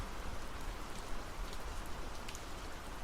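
Steady rain falls, a dense, even hiss of drops that carries on without pause throughout.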